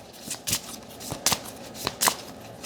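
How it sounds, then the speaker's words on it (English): Playing cards are shuffled face down in short bursts, about five or six quick riffling rustles spaced irregularly, close and crisp against a quiet background with no talk. "these are all face down when I'm shuffling them around"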